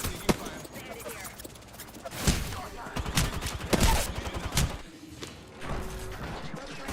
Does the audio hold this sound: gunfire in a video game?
yes